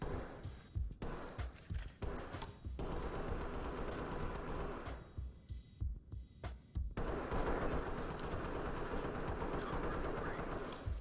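Heavy gunfire in the tactical shooter Ready or Not, suspects emptying magazines through a wall at an entry team; dense bursts of rapid automatic shots with loud thuds, continuous and close, with brief gaps between volleys.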